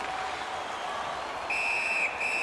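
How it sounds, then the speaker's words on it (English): A referee's whistle in the NHL 18 Xbox One ice hockey game, Tappara Tampere against Växjö Lakers, a clear high whistle with a short second blast over arena crowd noise. "A whistle and a rest."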